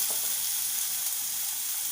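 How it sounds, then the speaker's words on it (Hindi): Sabudana tossed into dried-down tomato puree in a hot pan, a steady bright sizzle of frying with soft stirring underneath, continuous and close. "अब इसमें मैं साबूदाने डालूँगी।"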